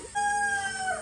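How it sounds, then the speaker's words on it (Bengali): A chicken in a coop at an eco resort gives one short, tonal call lasting about a second, fairly close and clear against quiet surroundings. "এখানে আমরা মুরগির খাঁচা দেখতে পেলাম"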